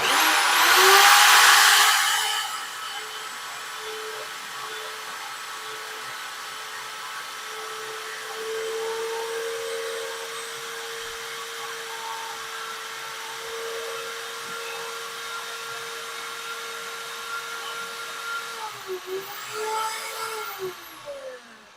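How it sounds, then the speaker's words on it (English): A power drill whirring at higher speed, a steady, moderately loud electric whine that holds a constant pitch for about twenty seconds, with a brief louder burst at the start and a shift near the end. "I'm just going to turn up the speed of my drill so it might get a bit louder."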